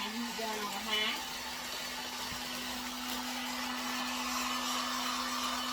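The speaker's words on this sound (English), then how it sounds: "I have my heat gun on high." A heat gun on its high setting blows a steady whooshing roar with a constant motor whine, running unbroken throughout while a voice speaks briefly at the start.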